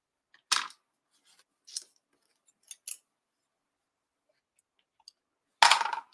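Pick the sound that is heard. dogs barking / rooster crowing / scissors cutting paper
scissors cutting paper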